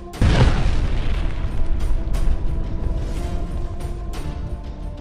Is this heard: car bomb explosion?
yes